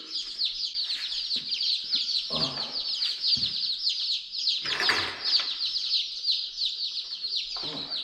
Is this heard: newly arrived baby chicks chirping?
yes